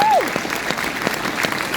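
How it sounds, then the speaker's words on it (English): Crowd applause at the Grenfell Tower silent walk rally, a steady patter of many hands clapping close by, with a short vocal sound at the very start and voices faintly mixed in. "I need a much bigger round of applause"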